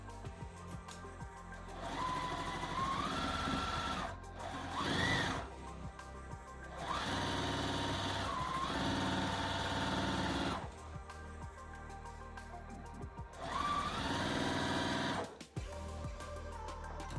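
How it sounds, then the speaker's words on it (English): Sewing machine stitching two quilt pieces together, running in three long steady whirring bursts separated by short pauses, close and clear. "we're going to go ahead and sew these two together"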